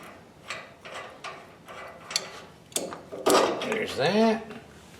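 A large nut is worked off a trailer wheel hub with channel lock pliers, giving several close metallic clicks and scrapes followed by a louder grinding ratchet-like rasp, with someone speaking briefly alongside.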